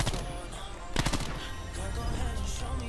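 Sniper and automatic gunfire in a Call of Duty Black Ops 4 Blackout match, a loud burst of shots near the one-second mark over steady battle noise, with no talk.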